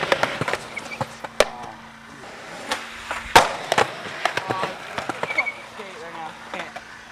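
Sharp cracks and snaps from a skateboard deck breaking ring out close by, mixed with scattered clatter and clacks from street skating over several seconds.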